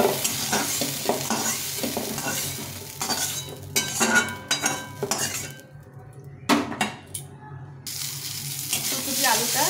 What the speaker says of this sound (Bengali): এই তেলে এখন এই ফুলকপিগুলো একটু ভেজে নেব